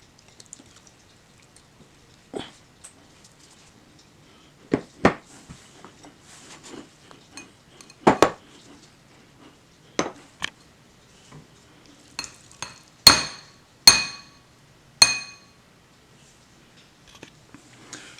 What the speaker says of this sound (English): So let me get everything set up to strain the oil